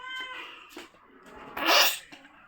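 A cat's hiss and spitting outburst at close range, a short harsh burst in the middle after softer rustling, with no talk over it.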